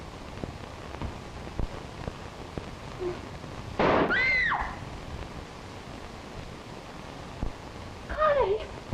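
Gunshots in a 1932 crime thriller film: a sharp loud burst around the middle followed by a second shot later, against a quiet background hiss.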